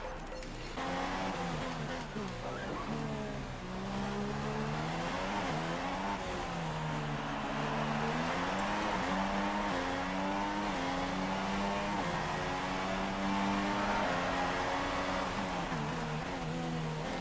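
Formula 1 cars from the F1 2016 video game race around the Monaco street circuit, engines screaming and rising and falling in pitch as they accelerate and shift, loud and continuous.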